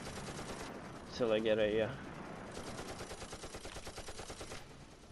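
Rapid machine gun fire in the WWII tactical game Close Combat rattles in a steady stream of bursts behind someone talking, with a louder, harsher stretch partway through.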